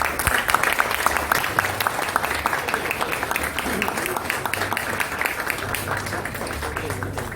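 Applause from an audience at a book presentation, sustained crowd clapping with sharp individual claps standing out, continuing at a steady level throughout with a few voices faintly mixed in.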